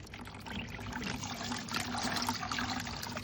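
Water drains steadily through a net bag filter beneath soaked garden soil, a close, continuous pouring and trickling splash lasting the whole few seconds, with no talk.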